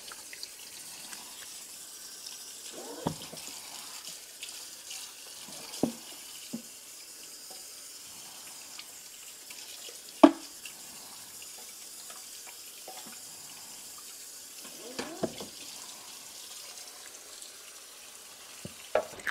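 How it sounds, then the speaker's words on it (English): Tap water runs steadily into a sink while juicer parts are rinsed under it, a constant hissing flow with occasional clacks and knocks of the parts against the basin, heard close with no talk. "I'm going to just rinse this off."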